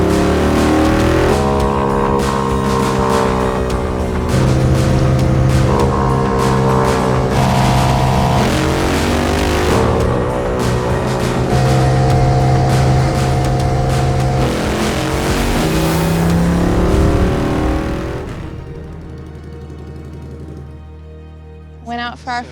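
A Royal Enfield 750 motorcycle makes a record run on the Bonneville Salt Flats, its engine roaring loud and close through a series of gear changes for most of the clip, then fading out into quieter ambient sound at the end.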